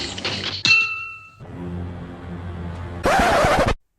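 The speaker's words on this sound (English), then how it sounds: "I wanted to have some sort of metallic sound effect sounding off when it's falling down the stairs and such" Metallic clanks and a ringing clatter as the Iron Chicken, a metal figure, tumbles down stairs, with a sharp clink early on and a loud burst of rattling near the end.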